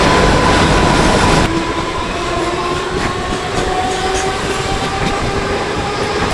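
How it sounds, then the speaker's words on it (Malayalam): Continuous rumble of a suburban air-conditioned train in Mumbai heard from inside, with a faint steady whine and occasional soft rattles, no voices. "ഇത് AC ട്രെയിനാണ്"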